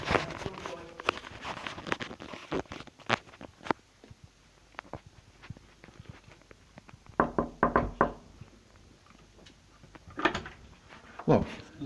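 A door is shut and a security chain fastened, giving sharp knocks, clacks and metallic rattles in uneven bursts, close by and fairly loud, with quieter shuffling between them.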